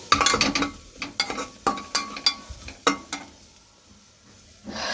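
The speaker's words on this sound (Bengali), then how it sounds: "এখন এখানে পেঁয়াজ ভাজা হচ্ছে" Onions frying in a pan before duck curry is cooked, giving a soft background sizzle broken by a series of sharp, close clinks and scrapes from stirring, which fade out near the end.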